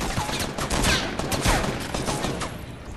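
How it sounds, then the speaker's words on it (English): Dense bursts of gunfire in the video game Fortnite, with rapid overlapping shots forming a sustained fusillade at moderate distance that carries steadily through the moment. "What are they shooting at?"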